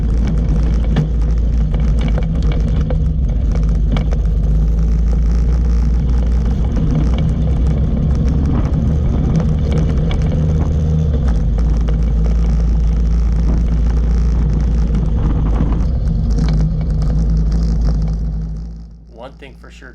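Mini Jeep engine droning steadily as it climbs an off-road mountain trail at high elevation, a loud, constant low rumble that fades out in the last couple of seconds.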